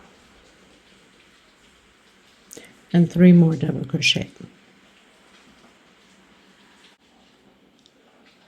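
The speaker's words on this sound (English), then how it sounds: "It is pouring rain right now." Heavy rain pours steadily as a faint, even hiss throughout, with a person speaking briefly over it.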